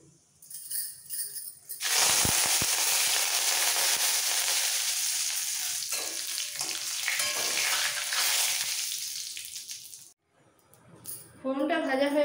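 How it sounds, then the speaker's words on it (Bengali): Curry leaves and a pinch of asafoetida hit hot oil for a South Indian sambar tempering, a loud, continuous sizzle that bursts in after a quiet start and runs for about eight seconds before cutting out. "ফোড়নটা ভাজা হয়ে গেছে"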